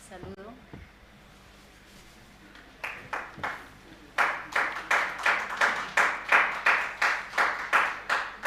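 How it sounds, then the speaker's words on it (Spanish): A church congregation at a Spanish-language prayer service bursts into loud applause, the clapping settling into a strong rhythmic beat that repeats steadily over several seconds after a short quieter lead-in. "Por favor, vamos a recibirlos con fuertes aplausos."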